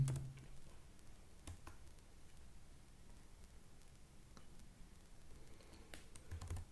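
Computer keyboard typing a terminal command, with quiet rapid key clicks and a few sharper taps spread across several seconds, faint and close with no talking.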